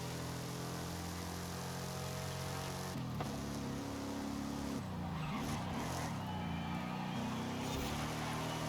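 Ford Mustang with a manual gearbox sliding through corners in Forza Horizon 5, a continuous engine drone with shifting pitch and tire scrub, loud and steady with brief changes in tone around each slide.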